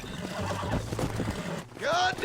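A horse in the Red Dead Redemption video game snorts and clops, then lets out a loud rising whinny near the end, close and clear.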